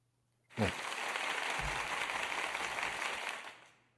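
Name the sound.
short applause sound effect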